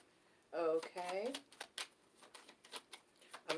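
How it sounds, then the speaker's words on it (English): Tarot cards shuffled by hand in a quiet room, a quick run of soft papery clicks and riffles that follows a brief spoken voice. "I'm shuffling them up so they're all mixed up."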